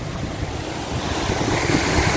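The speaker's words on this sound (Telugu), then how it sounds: "ఇక్కడ నీళ్ళు అయితే చాలా ఉధృతంగా ప్రవహిస్తున్నాయి" Water rushes hard over a pond check dam during the rainy season, a steady, loud roar of turbulent flow that swells slightly toward the end, with no voices over it.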